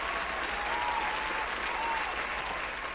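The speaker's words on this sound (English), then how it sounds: "Please give a big round of applause to our panelists." An audience at a panel discussion applauding the panelists, a full, steady wash of clapping from many people that holds at an even level throughout.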